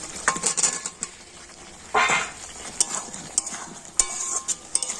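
Fried potatoes being stirred with spices in a pan, with scraping and clinking of a utensil against metal in irregular bursts over a low sizzle, close by and without talk.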